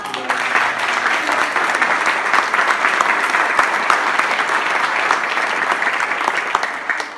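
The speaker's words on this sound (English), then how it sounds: "And if you can give her a round of applause." Steady, dense applause from an audience at a college senior commencement dinner, sustained and fairly loud throughout with no pauses.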